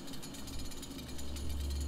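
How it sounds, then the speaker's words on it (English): Chainsaw in the video game Doom (2016), a steady dense mechanical rattling drone that runs continuously and grows slightly louder toward the end, with no talk over it. "So now they give you the chainsaw, and it works just a little bit differently."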